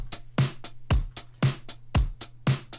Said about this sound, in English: So yeah, all the drums together sound like this.